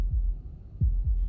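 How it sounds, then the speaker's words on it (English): Heartbeat in the video game Slay the Princess: three deep, muffled low thumps, the first alone and then a closely spaced pair, over a dark, quiet hum. "That was the sound of a heartbeat"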